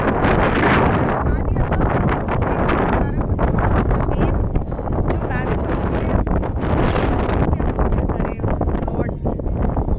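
Strong wind at a wild mountain campsite in the Maumturk mountains of Connemara roars and buffets the microphone loudly and continuously for the full stretch, with a voice partly under it.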